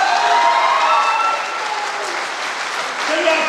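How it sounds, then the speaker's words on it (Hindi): Enthusiastic applause from a live audience at an event in Panchet, loud and steady throughout with dense clapping, easing slightly midway before swelling again. "सबके लिए जबरदस्त ताली होनी चाहिए।"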